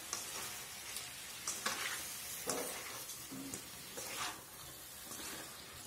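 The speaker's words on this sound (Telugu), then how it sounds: "ఇలా వేసుకున్న తర్వాత టమోటా ముక్కలు కూడా బాగా ఉడికేంత వరకు ఫ్రై చేసుకుందామండి" Two finely chopped tomatoes fry in a pan for spicy masala chicken gravy, a close crackling sizzle broken by several stirring scrapes and pushes.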